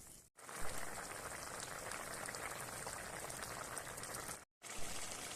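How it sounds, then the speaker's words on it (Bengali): A pot of small-fish curry broth simmers at a rolling boil, a dense, even bubbling hiss that runs almost without pause, broken briefly by two short silences. "ঝোলটা ফুটে উঠেছে"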